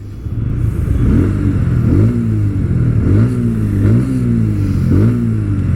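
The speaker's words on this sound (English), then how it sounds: "सबसे पहले exhaust note सुन लीजिए।" A Bajaj Pulsar P150 motorcycle engine drones steadily, heard from a helmet-mounted mic on city streets, its exhaust note rising and falling in repeated revving surges as it accelerates through gears.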